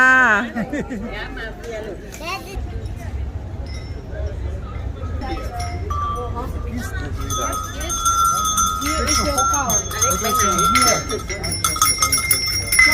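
Metal cowbells clink and ring in a busy souvenir shop in Hallstatt, bright repeated tones layered over chatter and voices throughout.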